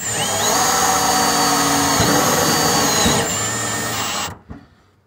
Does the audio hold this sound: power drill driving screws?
yes